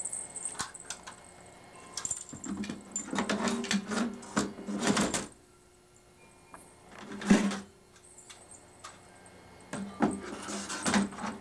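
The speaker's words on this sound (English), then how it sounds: "You can stack your paper here, turn your front and your back plate around, and it will do perfing and scoring only and no folding." A Dynafold DE8 paper machine perforating and scoring sheets, with no folding. It gives mechanical clatter and whirring in several bursts separated by quieter gaps, moderately loud and close, with no talking.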